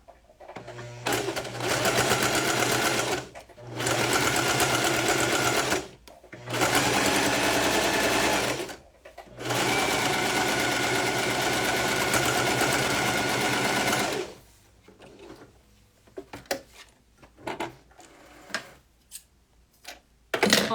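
A domestic sewing machine topstitches a French seam in contrasting thread, running loud and close in long whirring bursts separated by brief pauses, then falling to quiet handling and faint murmurs near the end.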